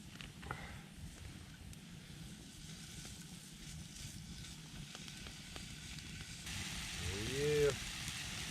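Bacon sizzles over a campfire at a winter camp, a steady soft crackle and hiss running throughout with a brief louder swell near the end.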